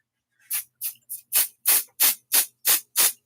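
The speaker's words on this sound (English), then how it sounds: "So I'm going to spray 505 spray on here." 505 spray adhesive hisses from an aerosol can in nine short, evenly spaced bursts, close and fairly loud, each about a quarter second long with brief silences between them.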